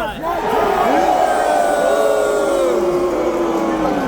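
An arena crowd at the Dreamhack IEM Dallas esports semifinal cheering for MOUZ, a loud sustained roar of shouts and whoops filling the whole stretch, with overlapping voices yelling through it.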